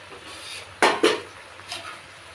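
A metal lid is set onto a cooking pan of spinach and small fish, giving two close, sharp clanks followed by a fainter clink against a quiet kitchen background.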